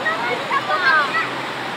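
Strong river current rushes through Majayjay, Laguna, a loud, steady roar of churning water with faint voices rising over it.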